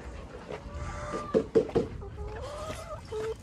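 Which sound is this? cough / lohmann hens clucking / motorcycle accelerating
lohmann hens clucking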